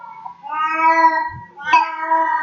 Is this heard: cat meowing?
yes